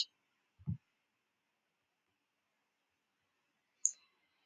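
A computer mouse gives a few isolated clicks, sharp and faint against near silence: a soft low thump early, then a crisp high click a few seconds later.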